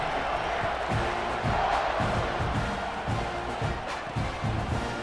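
Football stadium crowd at a South Carolina vs Texas A&M game, roaring and cheering steadily before kickoff, a dense loud wash of voices with rhythmic surges and chants.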